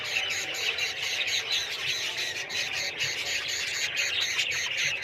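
Budgie parrots in an aviary squawk and chirp continuously, a busy overlapping chorus of shrill calls close to the microphone, with no talking.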